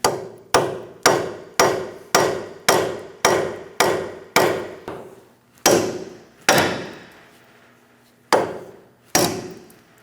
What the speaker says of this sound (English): I'm going to give it a tap